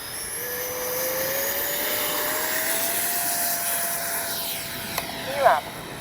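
A Freewing 70mm F9F-5 Panther radio-controlled electric ducted-fan jet flies overhead with a steady, thin whine that rises gradually, then sweeps sharply in pitch as it passes close near the end.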